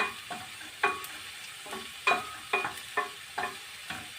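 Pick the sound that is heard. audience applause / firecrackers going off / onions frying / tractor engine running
onions frying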